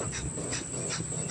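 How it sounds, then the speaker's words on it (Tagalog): A sick black dog breathes heavily in rapid, rhythmic pants, close and steady with no talk over it. "Ganito huminga yung aso namin."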